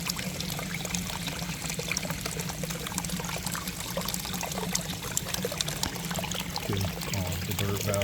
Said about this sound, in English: The bird bath comes on with motion too, with the main waterfall at the tropical rainforest garden.